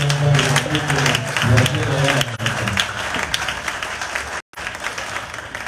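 A church congregation bursts into sustained applause and clapping that fills the room, steady and loud for a few seconds, with a voice speaking over it before it tapers.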